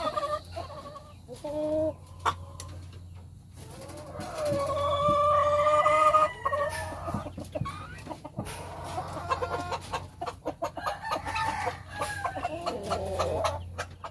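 Hens of a mohawk line clucking in breeder pens on a poultry farm, a series of close, varied clucks and squawks from several birds, with a low steady hum underneath and no talk.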